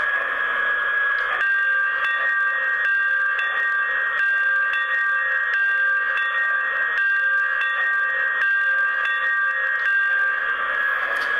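The bell of a Union Pacific #8080 model steam locomotive rings in a steady repeating pattern, bright metallic tones over a constant hum, continuing throughout with no voices.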